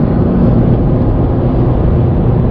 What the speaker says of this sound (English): It's bogging down. Yeah, man. When the gear changes.